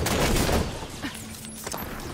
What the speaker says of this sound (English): Nice firing on me.